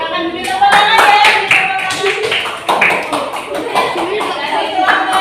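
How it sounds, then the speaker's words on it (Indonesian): A classroom audience applauding, with dense, lively hand clapping sustained close and loud, plus a few brighter individual claps and light background chatter. "Silakan beri tepuk tangan ya."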